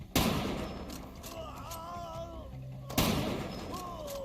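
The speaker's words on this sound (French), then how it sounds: "Il a quand même eu le temps de tirer un petit coup de feu." Enemy gunfire in the Far Cry 2 video game: two sharp broadband bursts, one at the start and another about three seconds later, with game ambience and tonal effects in between and no talk.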